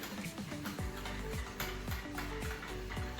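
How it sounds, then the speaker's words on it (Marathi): An omelette being mixed slowly in a pan, with repeated rhythmic scraping strokes of the spatula about every half second over a continuous close sizzle. "कुणाला ऑमलेट बनवतो आहे त्याला जमतं आहे तसं सावकाश मिक्स कर"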